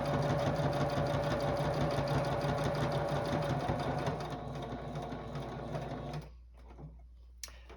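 A sewing machine quilting a star tabletopper runs in a steady, rapid stitching rhythm, close and even, then slows and stops near the end, leaving near silence.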